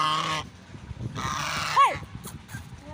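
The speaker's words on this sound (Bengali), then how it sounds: "এখানে এত রাজহাঁস আছে" Geese at a farm with livestock and flower gardens give a few nasal honks, the loudest a sharp bending call near the middle, surrounded by quieter calls and faint background rustle.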